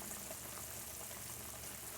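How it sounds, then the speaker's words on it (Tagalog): A pot of beef bubbling at a low, steady simmer, soft continuous boiling noise without any voices. "kumukulo na po yung ating beef"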